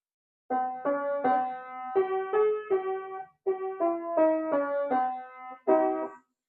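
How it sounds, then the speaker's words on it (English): Piano playing a short vocal warm-up exercise melody of stepwise notes in small groups, clear and close, with brief pauses between phrases. "It'll sound like this on the piano."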